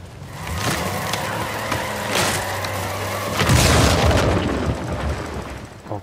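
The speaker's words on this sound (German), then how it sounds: "Jetzt ist dieser Balkon eingebrochen." A balcony collapses in the video game Uncharted 4, with heavy crashing booms and rumbling debris over steady background game sound, and a larger impact midway through.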